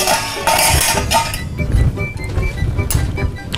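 A spoon clinks and scrapes repeatedly against an oval serving dish while juicy rabbit cooked in a two-litre jar is served, with rapid, irregular metallic taps over some kitchen clatter.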